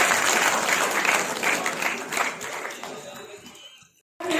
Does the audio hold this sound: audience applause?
yes